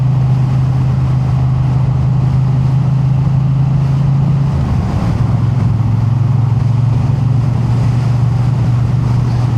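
Triumph Bonneville motorcycle ridden through the Derbyshire Peak District, a steady low engine drone with a brief dip and shift midway, heavy wind rush over the microphone throughout.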